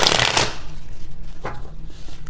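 Playing cards are shuffled by hand, a quick loud riffling burst at the start followed by softer shuffling and a brief flutter, close up and alone without speech.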